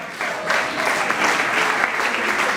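Audience at a live French-language stage comedy show applauds loudly and steadily, with clapping filling the room throughout and faint cheering mixed in, no talk over it.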